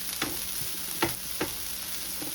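Roasting food being stirred on a sheet pan, a few quick scraping strokes against the metal over a soft steady background hiss, close and fairly quiet.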